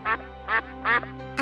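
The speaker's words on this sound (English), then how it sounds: "A duck says," A duck quacking four times in a quick uneven series, each quack short and nasal, close and loud with nothing else heard between them.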